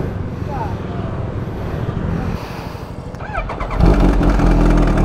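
A Kawasaki H2 motorcycle approaches and rushes past, its engine roar swelling loud and close toward the end, with voices talking faintly underneath.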